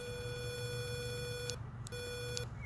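A dog training collar remote emits a sustained electronic beep tone, which breaks off briefly and resumes for a shorter second beep, over a steady low background hum.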